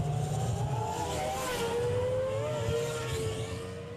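Michael Schumacher's Ferrari Formula 1 car at the 2000 European Grand Prix, its high-pitched engine whine sweeping down in pitch as it rounds the final corner, loud and steady throughout.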